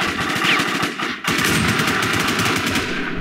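Rapid, continuous gunfire from a shotgun in the shooter game War Inc Battle Zone, loud and close, with a dense rattle of shots and a brief dip near the middle before the firing resumes.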